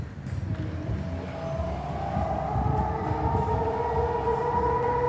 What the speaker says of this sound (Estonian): Ja sireen käivitus.